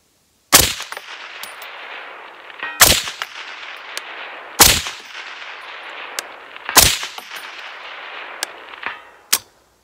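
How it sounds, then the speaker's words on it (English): IWI Tavor 7 .308 bullpup rifle firing four sharp, loud shots spaced about two seconds apart, each followed by a faint metallic ring of the bullet striking a steel target downrange, with a final softer steel ping. "I want to fire a shot, and I want to get the second shot off before we actually hit it, hear it hit the steel anyway."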